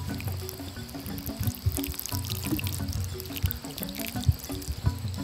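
Water poured onto a newly up-potted Bear's Paw succulent to soak and settle fresh soil, a steady close trickle with soft splashy bursts running throughout, no talk.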